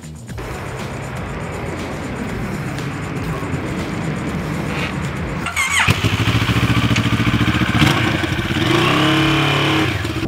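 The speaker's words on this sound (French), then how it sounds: "On va sortir la moto" A 2023 Moto Morini Seiemmezzo motorcycle engine idles close by, then revs up louder and keeps running with a rough, throbbing drone.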